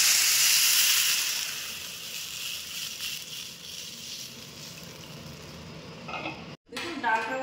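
Water is poured into a pot of cooking dal, setting off a loud broadband hiss and sizzle that slowly settles into a steady simmering rush, broken near the end by a brief gap and a few clinks.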